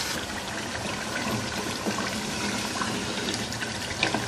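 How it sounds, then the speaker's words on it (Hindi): Water is poured from a tap into a pot of browned beef trotters during cooking, a steady splashing, filling gush that runs continuously at close range with no speech. "अब इसके अंदर पानी आप अपनी रिक्वायरमेंट के मुताबिक शामिल करेंगे"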